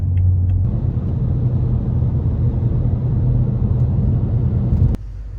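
A BMW F90 M5 running during a test, with a steady low engine rumble and drone that holds evenly before cutting off sharply near the end.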